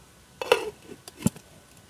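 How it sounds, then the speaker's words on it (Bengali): A metal lid clanks onto a wok, two quick metallic knocks close by with a moment of quiet between them. "এবার ঢাকা দিয়ে আমি 2 মিনিটের জন্য রেখে দেবো।"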